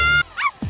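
Chassie, a cartoon puppy in the Cookie Run game, gives a short sequence: a held tonal note, then two quick high yipping barks, close and clear.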